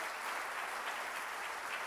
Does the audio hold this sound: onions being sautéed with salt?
no